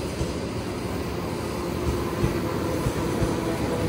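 An EP2D electric train runs on the MCD-1 Moscow line, giving a steady, loud rumble of wheels and motors with a continuous broadband roar and no voices.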